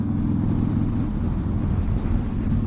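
Steady roaring wind buffeting the microphone while riding a motorcycle, a dense low rumble that never lets up, with no voices.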